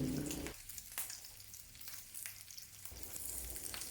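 Pork fries in oil in a pan, giving a soft, steady sizzle with occasional crackles and a brief louder spatter at the start.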